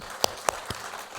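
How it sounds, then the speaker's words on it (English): A conference audience starts to applaud with a few sharp, separate hand claps spaced evenly about a quarter second apart, fairly faint, fading quickly into quiet. "we should really applaud"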